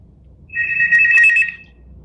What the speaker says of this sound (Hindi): किसी का फोन बज रहा है जो इसमें आ रहा है।